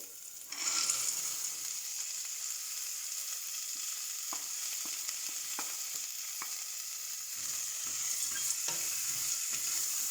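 Spices sizzling in hot oil in a pan for a cluster beans curry, a steady bright hiss that begins suddenly and carries on throughout, with occasional soft stirring clicks and no voices.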